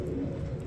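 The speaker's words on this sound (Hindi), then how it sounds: "ये हाई फ्लायर कबूतर है।" A high flyer pigeon gives one brief, soft, low coo, close by.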